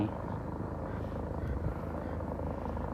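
Steady rotor drone from a rescue helicopter passing over a hiking trail in the Hollywood hills, moderately distant and continuous, with faint speech underneath.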